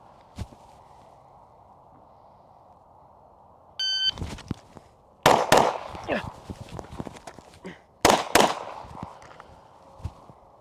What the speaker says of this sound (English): We'll shoot one target, move, shoot the other target as we come around the other side.